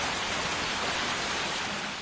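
Heavy, continuous downpour with a dense, steady hiss and no break or change, loud and close throughout, with no voices over it.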